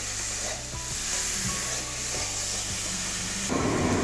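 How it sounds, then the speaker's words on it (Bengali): Mushrooms sautéing with salt in a pan for a cauliflower and potato curry, a steady loud sizzle with stirring scrapes throughout and a brief surge near the end. "এবারে ভালো করে মাশরুমটা কষিয়ে নেবো নুন তো দেওয়া আছে মাশরুম থেকেও জল ছাড়বে একটু কষিয়ে নেবো দু তিন মিনিট"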